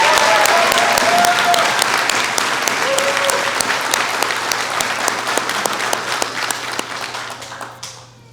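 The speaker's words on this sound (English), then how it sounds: "So another round of applause for Rachel." Warm round of applause from a university commencement audience in Maine for a graduating Earth and Climate Science master's student, steady crowd clapping that tapers off near the end.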